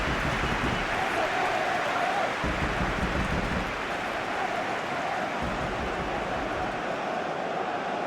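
A dense stadium crowd roar from the eFootball PES 2021 match between Mexico and Ecuador, a steady broadband wash of cheering that swells slightly and holds throughout, loud and continuous with no clear speech.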